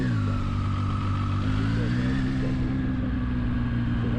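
A Zontes 703F motorcycle engine runs at low throttle with a steady, close, unbroken drone and no voices.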